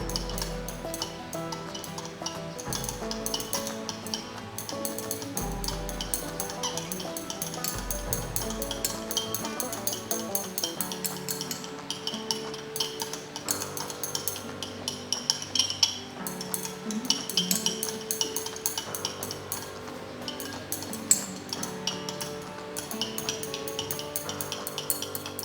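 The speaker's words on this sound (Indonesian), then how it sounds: "setelah itu kita aduk campuran tersebut" A benzoic acid mixture is stirred in a glass beaker in a pharmacy lab, with steady light clinking and scraping of the stirrer against glass, continuous and close throughout.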